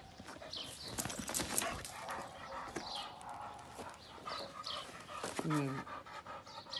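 A small dog pants and shuffles around indoors, with quick breathy panting and scrabbling movement heard close up while someone talks gently to it throughout.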